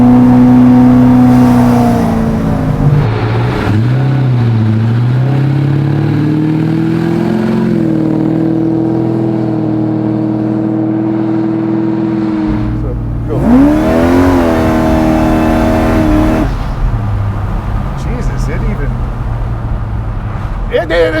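A 700HP Whipple supercharged Chevy Chevelle restomod revs its exhaust, a loud, close engine note rising and falling with a sharp burst of throttle near the middle, while people talk over it throughout.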